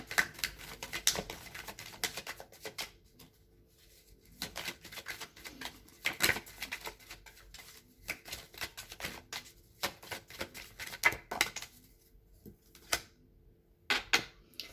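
Tarot cards being shuffled and drawn at a table: soft, close riffles, flicks and taps coming in irregular bursts, quiet throughout.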